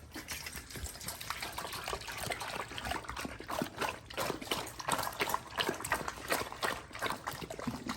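Belgian Malinois dogs lap water from a bowl outdoors at a campsite, a quiet, rapid series of wet slurping laps continuing steadily and close by.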